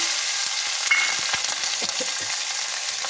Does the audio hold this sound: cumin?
yes